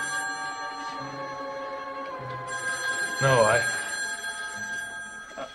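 An old telephone bell ringing in a drama scene, a steady trilling ring that carries throughout while voices speak over it, with a brief swell in the middle.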